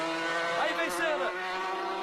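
A Formula 1 race car accelerates at the Interlagos circuit on a wet track, its high engine whine rising and shifting as it pulls away, heard close and loud under an excited commentator's voice.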